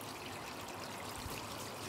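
Dumped water running and trickling down a gutter outdoors, a steady, faint rushing flow with no distinct breaks and no voices.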